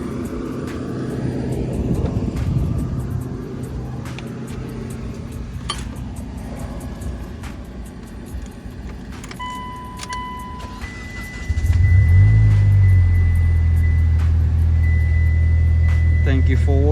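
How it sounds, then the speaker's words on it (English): A car engine is cranked and fires up after its fuel injectors were replaced, then settles into a loud, steady idle. Quieter engine-bay sounds and some talking come before it starts. "So I'm going to start the car."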